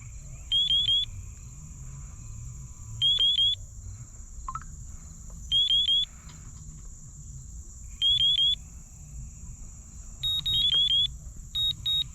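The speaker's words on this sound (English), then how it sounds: "That beeping you hear is the range check and my throttle." A RadioMaster TX16S transmitter gives short, high, clean beep bursts for a range check and throttle center, repeating roughly every two and a half seconds over a steady low hum and a constant high tone.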